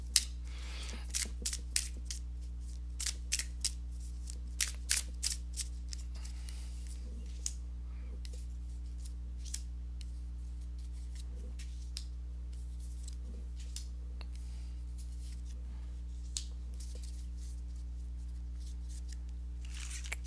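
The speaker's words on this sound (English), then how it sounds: "let me go ahead and give these cards a shuffle" Tarot cards are shuffled in quick crisp riffles and snaps, clustered at first and then sparse, over a low steady hum.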